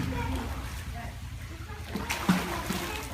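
A swimming learner kicks legs in a pool, producing continuous choppy splashing and sloshing water with a louder splash near the end, a coach's voice faintly present.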